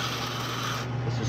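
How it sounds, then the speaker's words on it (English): Sandpaper, 60 grit, rubs steadily over a squared wooden fighting butt for a switch/Spey fishing rod, a continuous close rasping stroke with no pauses or voices. "Okay, I think it's square now, so I'm going to switch over to sandpaper."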